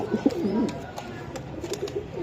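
Pigeons, including Racer and Sirazi breeds, cooing close by in soft, low, rolling calls that repeat through the clip, with faint background clicks and no speech.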